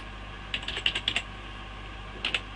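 Keystrokes on a computer keyboard while coding in Python, a quick burst of about eight clicks followed by a pause and then two more taps, close and clear over a quiet background.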